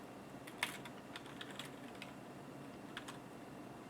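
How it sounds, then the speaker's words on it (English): Quick, irregular clicks of someone typing on a computer keyboard, close and quiet, in short bursts with brief pauses between keystrokes. "Let me type in our password"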